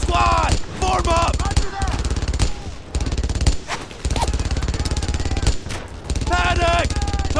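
Battle in the World War II shooter Brothers in Arms: Earned in Blood, with loud rapid gunfire crackling nearly throughout, broken by brief pauses, while shouted voices call out over the shooting.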